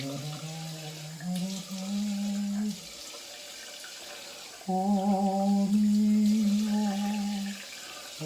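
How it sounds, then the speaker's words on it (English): Cold tap water runs into a sink for a post-shave face rinse, two bursts of steady flow with a humming, whining pipe tone and a quieter pause in between. "I'm going to rinse cold water properly"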